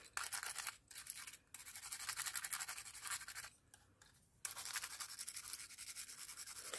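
A small brush scrubs over cut paper in a quiet, close series of soft, rapid bristly strokes, broken by a few brief pauses.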